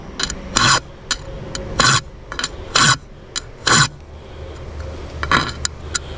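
A file rasps against a dull mower blade in short, sharp strokes, about a handful spaced roughly a second apart, with quieter scraping between them.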